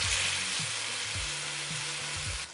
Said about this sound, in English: Now we'll drop the steak.